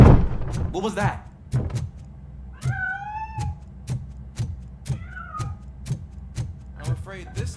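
Cat meowing in the Robocop: Rogue City video game, two drawn-out mid-distance meows amid repeated sharp clicks and knocks, with a brief voice or noise burst at the start.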